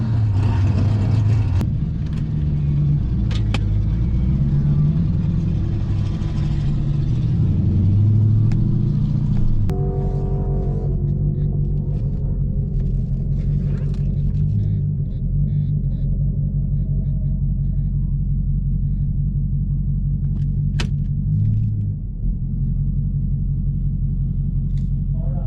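Drag car launching down the strip on a test hit with a new 3.90 posi rear end: a loud rising engine roar through the first ten seconds, then a steady heavy rumble that drifts on with faint voices intermittently.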